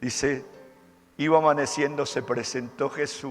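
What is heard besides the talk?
No everyday noises stand out.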